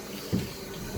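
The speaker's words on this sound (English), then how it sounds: "This toilet running is probably the source of the water bill." A running toilet in a house bathroom lets water flow and hiss briefly, with a slightly louder surge near the start and another toward the end of the short stretch.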